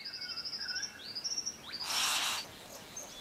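Male frogmouth in Australia's Gondwana rainforest singing during courtship: a series of thin, high chirping whistles in short rhythmic runs, followed by a brief burst of broadband noise, moderately faint with other bird calls around.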